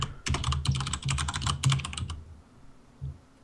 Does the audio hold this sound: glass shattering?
no